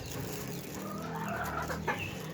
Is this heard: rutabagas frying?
no